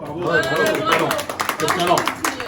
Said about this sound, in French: Et on peut applaudir un peu là, s'il vous plaît.